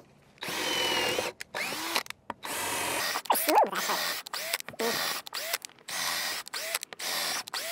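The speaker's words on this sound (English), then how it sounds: "just drilling simple holes, not too bad" A cheap power drill bores simple holes into wood on a high setting, whining in repeated bursts with short pauses between holes and a rising pitch as each one spins up, loud and close.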